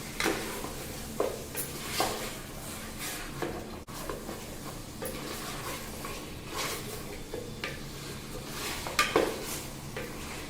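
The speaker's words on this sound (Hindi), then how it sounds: "इसमें अदरक लहसुन का पेस्ट ऐड कर रहे हैं। अच्छे से मिक्स कर ले रहे हैं।" Ginger garlic paste being stirred into fried chicken in a pot for Sindhi biryani, giving soft scraping and clinking spoon strokes over a faint sizzle, fairly quiet and close.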